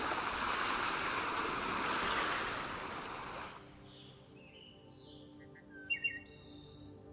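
Seabirds call from a tern breeding colony on the Lakshadweep islands, a few sharp chirps and tweets rising clearly near the end over steady surf and wind that swamp the first half.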